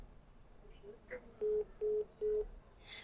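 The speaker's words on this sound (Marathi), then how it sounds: "सूरजने आता फोन ठेवलेला आहे" Three short, identical electronic telephone beeps at an even pace, the steady tone of a disconnected line, over a faint background hum.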